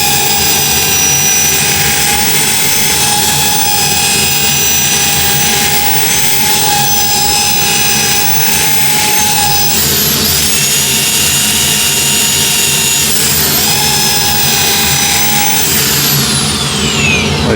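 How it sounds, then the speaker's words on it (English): A power sander works a surface with 180 grit sandpaper, a loud continuous whine and steady roar held close, with slight pitch shifts partway through and no talk. "That's ready for sanding. Let's try 180 grit."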